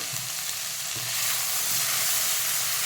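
Powdered spices such as coriander fry on full heat in a pan for vegetable pulao, giving a steady, close sizzle that swells slightly toward the end, with no voices.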